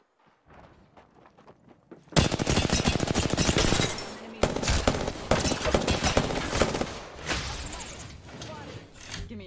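Rapid automatic gunfire in the shooter Apex Legends, with a long dense burst of shots, a brief pause, then more sustained firing, loud and close after a quiet start.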